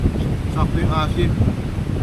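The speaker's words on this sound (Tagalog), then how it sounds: "Tuloy-tuloy yung hangin." Steady wind buffeting the microphone at a beach campsite in San Juan, Batangas, a continuous low rumble with faint voices briefly audible over it.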